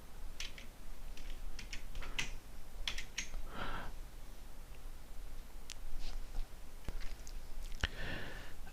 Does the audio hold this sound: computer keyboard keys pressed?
yes